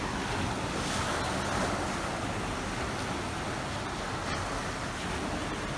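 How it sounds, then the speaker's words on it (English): Waves lapping on the River Thames foreshore in London in the evening, a steady broadband wash of water mixed with wind noise and no voices. "Just listen to those waves."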